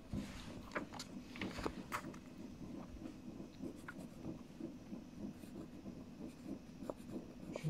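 Close, faint scratching and tapping of a pen writing on paper or a board runs steadily, in short irregular strokes, with no talking over it.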